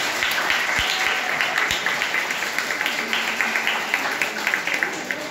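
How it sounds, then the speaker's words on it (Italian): Audience applause for Bianca at an event at Parma Lands in Sorbolo Mezzani, a full room clapping steadily and fairly close, with a few louder claps and cheers rising over it. "Quindi un bel applauso per Bianca."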